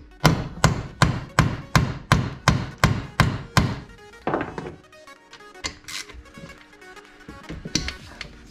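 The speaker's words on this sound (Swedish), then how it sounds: "Det här är ett sätt att få loss en skruv som sitter. Banka in Torx." Sharp hammer blows drive a Torx bit into a stuck screw while a Yamaha Hyper Aerox scooter engine is taken apart, nine evenly spaced metallic knocks in a row, then quieter clinks and fumbling sounds with no talk.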